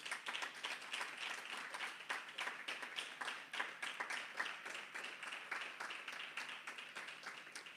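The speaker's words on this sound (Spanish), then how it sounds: "Dale un aplauso al Señor" During a Sunday service, a Spanish-speaking church congregation claps steadily, with many distinct, closely spaced hand claps forming a lively, sustained patter from start to finish.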